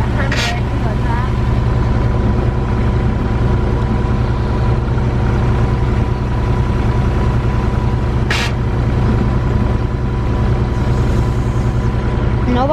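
A Subaru Impreza GC8 with a turbocharged EJ20 engine idles steadily after its first start following winter, a constant low burbling drone with two brief sharp hisses, while a person talks over it.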